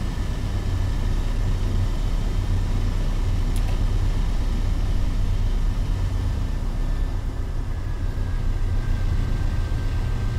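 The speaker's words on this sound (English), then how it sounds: "You can hear the cooling fan slow down a little bit there too." A diesel locomotive's cooling fan on a Searchlight Simulations AC4400 in Train Simulator 2018 hums steadily with a low engine drone, a continuous broadband whoosh that eases slightly over time, with no talk.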